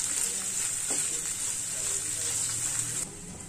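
Beans sizzling in a hot pan on a stove, a steady bright frying hiss that runs continuously and drops slightly in level toward the end.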